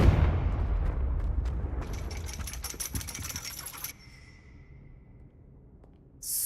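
Confringo explosive spell in Hogwarts Legacy: a deep blast rumbles at the start, then a rattling crackle of debris and metallic clinks that fades into near quiet before a sudden bright burst at the end.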